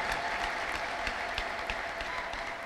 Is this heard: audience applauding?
yes